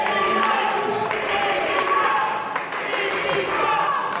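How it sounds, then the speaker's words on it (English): A wrestling crowd at a live match chants in a loud, steady roar that rises and falls without pause, with cheering mixed into the continuous noise of the arena. "The crowd chanting, "Pinky sucks.""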